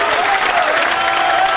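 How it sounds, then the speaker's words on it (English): A British crowd at a 2003 World Pool Championship match applauds Earl Strickland, a dense, steady clapping that fills the hall evenly from start to finish with no voices on top. "that sounded pretty respectful applause to me, Earl Strickland, from this Brit crowd"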